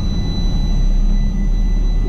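A diesel truck with a deleted 12-liter Cummins engine runs with its exhaust giving a steady, loud, deep roar, close and continuous, with no talk.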